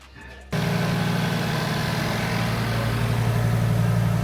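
After a brief moment of quiet, an Audi RS3 engine, an 800 hp 8Y with an upgraded intercooler, idles loudly and steadily at close range, a constant low rumble that holds without revs.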